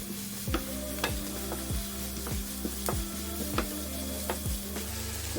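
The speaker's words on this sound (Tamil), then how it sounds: "வெங்காயம் நல்லா வதங்கி இருக்குது." Onions sautéing in a hot pan over high heat for a Muttai yeera gravy, with a steady close sizzle and the rhythmic scrape of a spatula stirring about once a second, and no talk.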